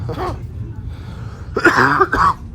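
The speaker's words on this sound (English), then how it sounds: "This cough is fine." A couple of harsh, throaty coughs close to the microphone, preceded by a brief rough throat sound, over a low background hum.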